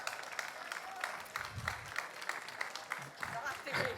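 Scattered audience applause at a small gathering, faint uneven clapping with bursts and pauses and voices talking underneath.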